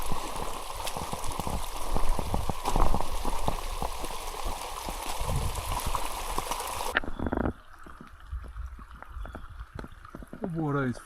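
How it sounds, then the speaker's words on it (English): Torrential rain pours through trees on an overnight hike, a dense steady wash of water with someone talking over it, the roar dropping abruptly to quieter drips partway through. "The water is flowing down the trees."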